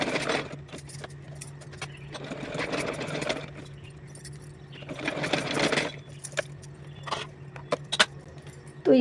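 A sewing machine stitches a small dress for a Laddu Gopal figure in runs of fast needle rattle, broken by pauses and small handling clicks.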